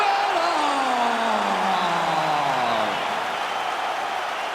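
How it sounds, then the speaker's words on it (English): Arena crowd in the video game UFC 5 before a middleweight title bout, a broad steady roar of cheering that swells throughout while a commentator speaks over it. "you can hear the crowd response"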